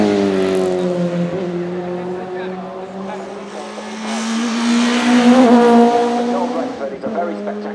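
An Alfa Romeo 155 touring car races at Silverstone, its engine droning loudly as it passes close by, the pitch rising and falling with gear changes, a commentator talking over it.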